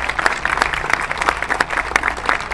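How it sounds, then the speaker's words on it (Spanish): Crowd applause at a public rally for families of detained protesters, a loud dense clatter of many hands clapping steadily throughout. "un aplauso para ella"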